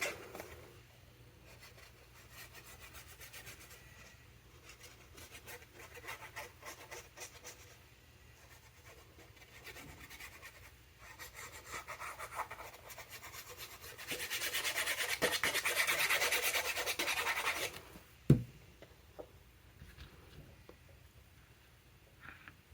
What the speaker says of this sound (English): And then I'm going to burnish it.